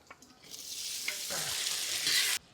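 Onions and curry leaves fry in sesame oil during bulk catering cooking, giving a loud, steady broadband sizzle that swells when the leaves hit the pan and then cuts off abruptly near the end, with a few stirring scrapes.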